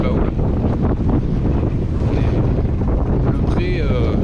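Strong wind buffets the microphone in a constant roar on a sailboat tacking toward Bilbao, with water rushing and splashing around the hull.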